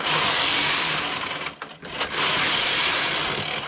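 A home knitting machine working a baby blanket, a steady close mechanical whirring and clattering as the carriage passes, briefly pausing midway before resuming, with no talk.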